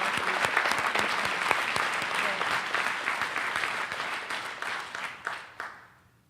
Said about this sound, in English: A round of applause for these students as well.